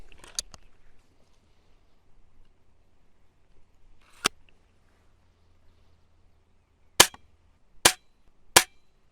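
A SNOWPEAK SP500 air pistol fires Predator Polymags pellets in sharp, close cracks: one early shot, another near the middle, then three quick shots in a row at the end, with quiet handling between.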